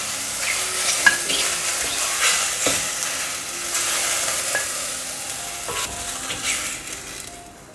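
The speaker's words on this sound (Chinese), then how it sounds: "继续翻炒，大概炒个30秒左右。" Loofah and tofu are stir-fried in a wok, giving a soft continuous sizzle broken by repeated scraping and tossing strokes of a spatula, close up and without speech.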